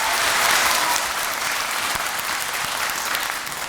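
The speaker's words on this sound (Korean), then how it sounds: "정말 솔직하게 말씀해 주신 두 분께 더 큰 박수 부탁드리겠습니다." Audience at a youth talk concert applauds the two speakers with a full, sustained wash of clapping that stays loud and gradually eases off toward the end.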